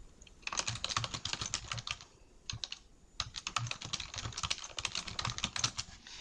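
Steady clatter of keys on a computer keyboard as text is typed into a software form, in close, quick bursts with a short pause in the middle.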